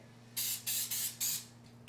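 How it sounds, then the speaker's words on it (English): Several short bursts of cooking oil spray hiss close by, coated over food before air frying: four quick sprays in a row over a faint steady hum, with no talking. "so we're just gonna spray on top"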